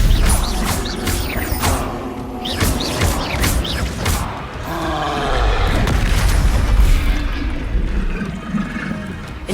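Spell impacts and explosions in the video game Hogwarts Legacy, heard as a dense run of loud booms, crashes and whooshing blasts with magical shimmer throughout.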